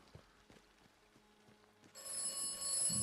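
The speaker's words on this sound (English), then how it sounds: "We do have another phone call for us from the mysterious voice." A telephone rings in the post-apocalyptic video game Atomfall, a bright sustained electronic ring starting partway through after quiet footsteps and clatter, fairly clear and alone.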